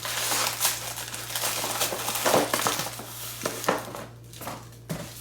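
Shrink wrap packaging from a sublimation tumbler kit for 20 oz Asub tumblers crinkles and rustles close up in an irregular, steady stream, with soft scattered crackles and a low background hum.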